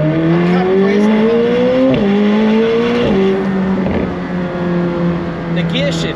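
A McLaren 765LT Spider under hard acceleration, its engine note rising steadily and then dropping abruptly at each upshift. The loud, close exhaust holds for the whole stretch, with about three clear gear changes.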